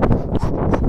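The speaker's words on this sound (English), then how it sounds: "I'm sure you can hear the wind noise." Gusty wind buffeting a clip-on lavalier microphone worn on the chest outdoors on a very windy day, a steady low rumbling roar with brief swells throughout.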